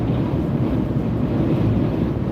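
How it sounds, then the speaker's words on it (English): Strong gusty wind in a Kansas severe-weather storm, gusting around 35 to 60, roars steadily and loudly into the microphone with a deep buffeting rumble and no voices. "This wind is 45 gusts, I mean, I don't know, 35 gusts to 50, 60."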